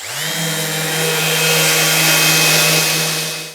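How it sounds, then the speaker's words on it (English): A power sander whirs up to speed and holds a steady high drone, close and loud, while sanding a wooden sacrificial fence insert for a Festool Kapex miter saw. "just take a very light sand up to about 30mm from the bottom"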